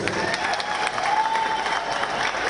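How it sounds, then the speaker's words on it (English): Sustained applause from an outdoor audience at a book launch in Blantyre's Victoria Gardens, steady clapping and crowd noise for a cultural dance troupe throughout. "Let's give them another round of applause."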